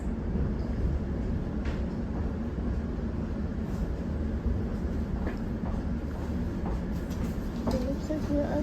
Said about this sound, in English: This is an Elizabeth line service to Central Heathrow